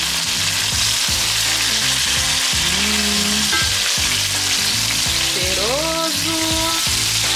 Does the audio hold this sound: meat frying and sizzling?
yes